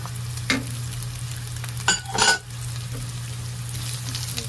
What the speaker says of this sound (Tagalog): Saka natin i-gisa ang sibuyas. Okay, so ilagay na natin yung sibuyas.